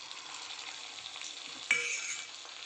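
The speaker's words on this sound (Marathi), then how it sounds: "फ्रेंड्स आपले पकोडे बघा खूप छान डीप फ्राय होतात." Paneer 65 pieces deep frying in hot oil, a steady close sizzle and bubbling hiss throughout with a brief louder crackle and spatter partway through.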